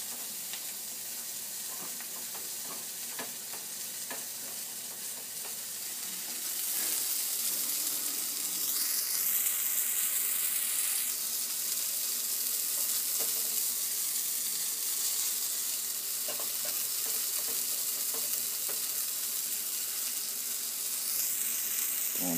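Food sizzles in a pan on an Alocs alcohol spirit burner set in a Sterno folding stove box, a continuous close frying hiss that swells slightly louder after the first few seconds and holds steady.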